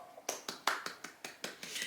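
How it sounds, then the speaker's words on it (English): Sharp hand claps repeating in an even rhythm, about eight close, crisp claps from a single person during a makeup review, with faint room tone between them. "I'm just like applauding already"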